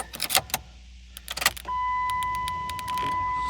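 A 2004 Dodge Durango starting with its old key: keys jangle and clicks come first, then the engine catches and settles into a steady, fairly loud idle that continues to the end, with no talking.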